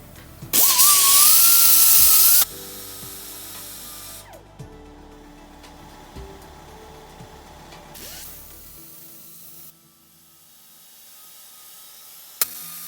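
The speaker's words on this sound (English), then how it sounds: "you want to take your sanding disc and you want to smooth off the body of the fish here where you've cut it" A sanding disc grinds the cut edges of a scrap silverware metal fish sculpture, a loud, harsh whine lasting about two seconds with rising pitch, then fading to a steadier, quieter workshop hum with a small click near the end.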